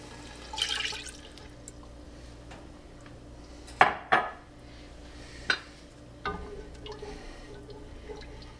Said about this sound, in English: I'm just going to be scraping the bottom to get all those good little cooked bits off while I bring up the cider to a boil